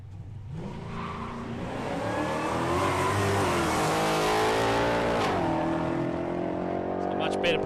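Brad Price's late-model Mustang drag car makes a full pass down the strip at Palmyra Raceway, its engine roaring loud and steady as it climbs through the gears, with a commentator talking over it.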